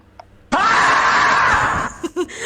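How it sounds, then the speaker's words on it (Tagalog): A loud, close human scream on a livestream holds steadily for more than a second, then breaks into a few short, breathy laughs. "ako din sisigaw. Totoong sigaw."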